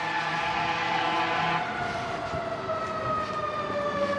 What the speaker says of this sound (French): ça fait des sirènes